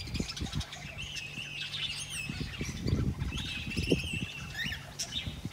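A pet white canary singing indoors near its cage, with bright warbling trills and chirps in bursts, fairly close, alongside other bird calls and rustling in the room.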